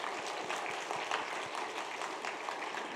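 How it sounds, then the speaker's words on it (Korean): A congregation at a Wednesday church service claps together to thank a teacher and students. The steady, moderately loud patter of many hands fills the moment without pause and with no talk over it. "우리 학생들 한번 같이 박수하겠습니다"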